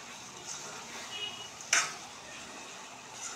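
Gongura prawn curry stirred in a pan, a quiet background sizzle broken by a single sharp metallic clink of spoon on pan midway, with faint scraping before and after.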